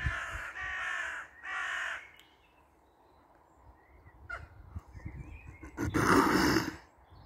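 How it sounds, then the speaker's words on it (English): Crows caw in several loud, harsh bursts during a dispute with magpies over territory in a tree. A few caws come close together, then a quiet gap follows, then a final strong caw. "here come the crows"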